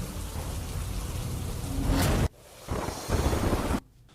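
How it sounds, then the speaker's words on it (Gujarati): Heavy monsoon rain pours down in a loud, dense roar, cutting off abruptly partway through and then returning before a final drop-off. "આજે પણ વહેલી સવારથી ક્યાંક વરસાદ જે છે જામ્યો છે"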